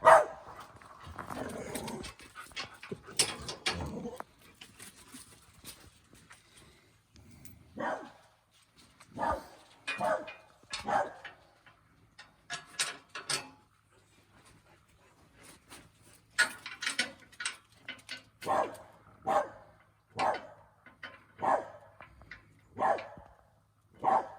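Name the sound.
dogs barking, blue heeler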